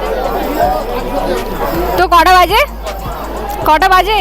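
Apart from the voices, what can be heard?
crowd chatter at Chandannagar Jagadhatri Puja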